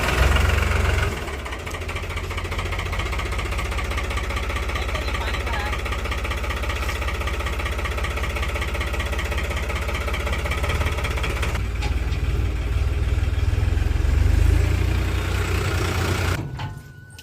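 A tractor engine idles steadily close by, a low rhythmic chugging that holds for most of the clip before cutting off near the end.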